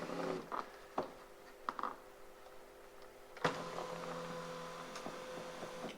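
An electric seat motor in a Mercedes W124/W126 non-memory front seat whirs faintly as the seat travels forward and back, with quiet clicks and a steadier motor hum in the second half.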